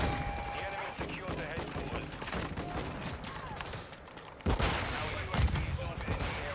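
A video game played on an MSI MEG Trident X2 fills with bursts of gunfire and grenade blasts, with rapid shots cutting in and out and a sharper burst near the end.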